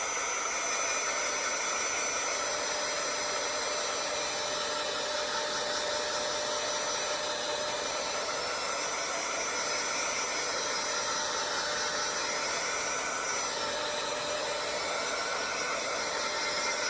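A hair dryer blows steadily on a craft made from fall leaves, a constant loud whooshing hiss with a faint whine, running alone without pause throughout.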